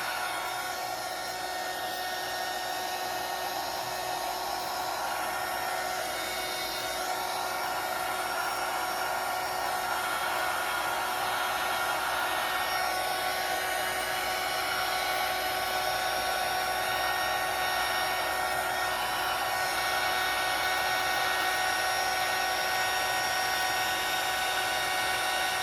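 Heat gun blowing hot air over fresh resin on an ocean-themed resin art piece, a steady loud whirring drone that runs continuously with no talk.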